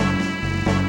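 Looped sampled instrument note from SNES-era game music, a rich buzzy sustained tone holding steadily without decay, loud and close.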